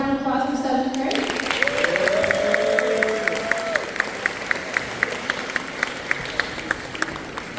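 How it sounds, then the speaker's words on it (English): An audience at a school band awards concert applauds 7th grade band students, a burst of clapping and some cheering that tapers off, while a voice speaks over the fading claps. "let's have one more round of applause for 7th grade"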